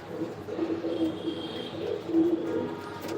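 Racing pigeons coo in low, throaty, repeated phrases inside a loft, fairly close and moderately loud, with faint background murmur.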